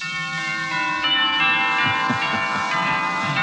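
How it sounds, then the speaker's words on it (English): Wedding bells ring out as a radio drama sound effect, a bright cluster of overlapping church-style chimes struck repeatedly in an irregular, sustained peal, loud and alone. "Wedding bells."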